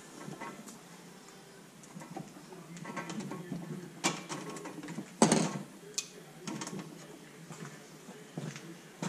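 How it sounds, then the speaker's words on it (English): Metal clamps handled in a workshop during knife pattern making, giving scattered close clicks and clanks of metal parts at an irregular rhythm, with one louder knock near the middle. "So we got a couple of clamps here."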